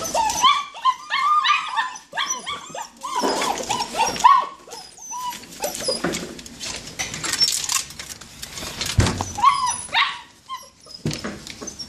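Several 45-day-old German Shepherd puppies whimper and yip close by, with high whines and short barks running almost without pause and overlapping, occasionally loud.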